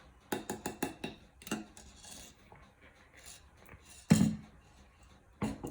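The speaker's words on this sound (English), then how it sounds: "I'm gonna give that a quick mix and set it aside" A utensil clinks and taps rapidly against a bowl while vanilla extract is mixed into peppermint mocha cupcake batter, followed by softer scraping and a couple of sharper knocks, with no voice.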